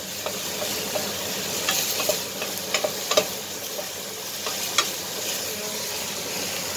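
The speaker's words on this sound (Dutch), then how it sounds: "En dan ga ik het eventjes bakken" Food frying in a pan for fresh tomato soup, a steady broadband crackle and hiss with scattered sharper pops, fairly close, with no voices.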